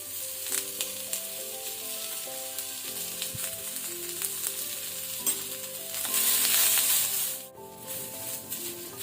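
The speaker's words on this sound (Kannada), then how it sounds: "ಈಗ ಅದರೊಟ್ಟಿಗೆ ಈರುಳ್ಳಿ ಮತ್ತು ಬೆಳ್ಳುಳ್ಳಿ ಹಾಕಿ ಫ್ರೈ ಮಾಡಬೇಕು" Onion and garlic frying in hot coconut oil, a constant bright sizzle that swells louder midway, with some background music tones running underneath.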